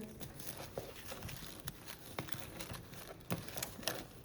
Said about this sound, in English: it is hard to shuffle them, so what we are gonna do is mix them up here.